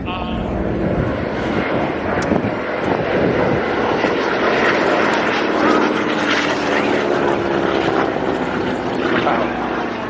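Airplanes fly overhead at a New York air show, producing a loud, steady engine and propeller roar that fills the whole stretch without letting up.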